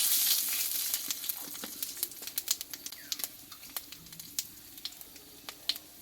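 A bay leaf, three dried chillies and panch phoron crackling in hot oil: sharp popping spits scattered over a fading sizzle, close and alone, busiest at the start then thinning out.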